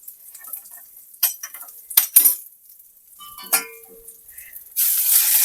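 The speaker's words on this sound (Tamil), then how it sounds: "தேங்காவும் ஓரளவுக்கு ஃப்ரை ஆகிடுச்சு." Grated coconut frying in ghee in a home kitchen, with scattered clinks of a utensil against the pan, sharp spatula scrapes and a brief sizzle, ending in a louder steady hiss of frying, close and without talk.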